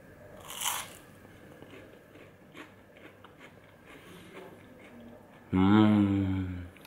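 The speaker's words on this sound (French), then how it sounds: "Il n'y a plus qu'à les manger, on a tellement envie de les croquer." Crunchy, light fried onion rings dipped in sauce are bitten and chewed close up, with a sharp crunch early on and a louder burst near the end over quiet background noise.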